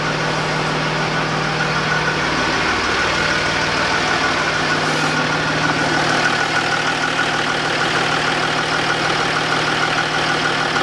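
A Land Rover Discovery 3 engine runs steadily after a turbo replacement, a constant close idle hum with an even mechanical drone and no voices.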